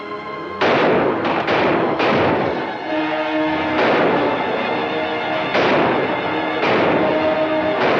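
Gunfire in a western film shootout: about six loud, sharp shots ring out at irregular intervals, each with a long echoing tail, and no voices are heard.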